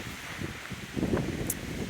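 Blustery wind on the Appalachian Trail among pine trees buffeting the microphone with a low rumble and some rustling, steady throughout with a few stronger gusts.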